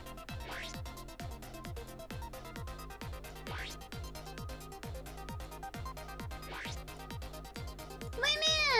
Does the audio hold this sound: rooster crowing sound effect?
no